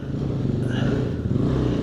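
A Suzuki DRZ enduro motorcycle revs hard off-road while climbing a tough hill, its engine loud and close with a rough, throbbing drone through the whole moment.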